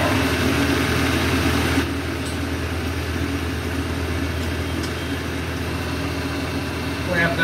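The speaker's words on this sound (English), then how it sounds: "So I'll go ahead and turn it on and just cycle the basic functions. Main power, two-stage motor." A Polar 92 EMC paper cutter's two-stage motor running: a loud, steady mechanical hum and whir that shifts character about two seconds in, then continues evenly at close range.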